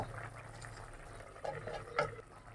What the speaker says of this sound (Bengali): তরকারিটা আমার বলক এসে গেছে